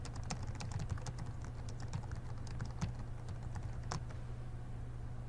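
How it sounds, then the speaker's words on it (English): Rapid, steady typing on a computer keyboard, close and clear, with continuous key clicks over a low background hum and no talk. "You can type your question in the very first line."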